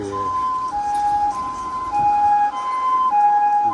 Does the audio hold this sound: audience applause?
no